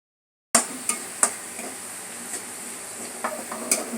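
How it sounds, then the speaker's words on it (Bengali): Onions frying in oil with whole cumin and dal spices give a close, constant sizzle, with a few sharp utensil scrapes and taps against the pan after a brief silent start. "পেঁয়াজটা লাল লাল করে ভেজে নিচ্ছি"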